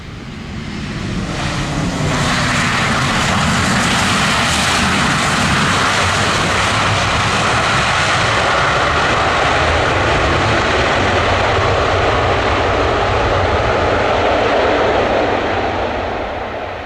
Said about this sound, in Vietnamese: chiếc máy bay của China Airlines thực hiện chặng bay từ sân bay Tài Trung về đến sân bay Tân Sơn Nhất